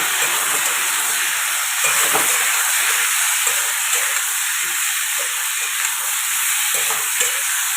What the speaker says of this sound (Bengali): হলুদ গুঁড়ো দিয়ে দিলাম ভালো করে মশলাগুলোকে কষিয়ে নেব